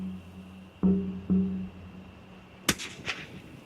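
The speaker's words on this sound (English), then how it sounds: "If it's for human consumption, Ross must get a clean headshot" A rifle shot at a kangaroo in the Australian bush rings out as one sharp, loud crack with a brief echo after it, preceded by a couple of softer low thumps over a quiet, droning background.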